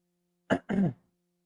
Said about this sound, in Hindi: थोड़ी खांसी हो रखी है इसलिए